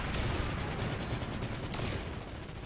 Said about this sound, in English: It's just unrelenting missile fire.